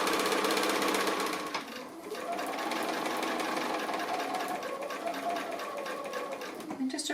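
Sewing machine stitching a seam on a toad-shaped pin cushion, a steady rapid mechanical whir that runs throughout, with a brief pause and restart as the fabric is turned, and soft speech underneath.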